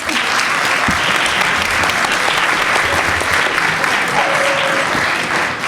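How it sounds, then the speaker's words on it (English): A crowd applauds steadily throughout, a dense, even wash of clapping at a consistent level from start to finish. "So let's clap them up, please."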